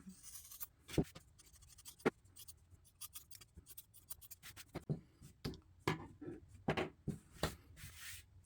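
Fabric scissors cutting macrame cord to even out a rainbow fringe: faint, close snips and scraping rustles in an irregular sequence, with crisp clicks of the blades among soft handling noise.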